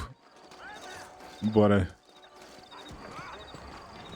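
Horses in the Western video game Red Dead Redemption clop and whinny, a loud burst of neighing in the middle among hoofbeats, with someone speaking briefly at the start.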